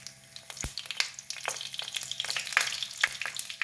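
Dried red chillies drop into hot oil already popping with mustard seeds, giving a steady close sizzle with sharp crackles and spits while a Kannada buttermilk sambar tempering is prepared.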